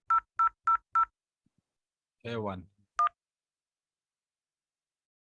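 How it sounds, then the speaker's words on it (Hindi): Telephone keypad dialing tones in a telephony demo: four quick, evenly spaced beeps, then a brief spoken word and one more beep, all clear and close in a quiet room. "तो ये हमारा टेलीफोन यहाँ पे बजने लगा।"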